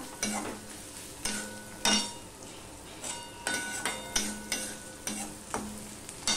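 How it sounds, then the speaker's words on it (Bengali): A spoon scrapes and knocks rhythmically against a pan as onions fry and soften, about a dozen quiet stirring strokes over a soft, constant sizzle, with no talking. "পেঁয়াজটা আমি একদম লাল লাল করে ভাজবো না।"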